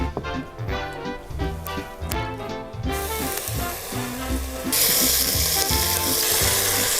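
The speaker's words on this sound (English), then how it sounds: "The first step is frying up some bacon." Bacon frying in a pan in a survival-themed Wasteland cooking setting: a steady sizzle under rhythmic, tonal background music, with the hiss growing brighter and louder toward the end.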